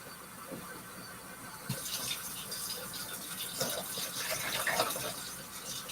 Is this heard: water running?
yes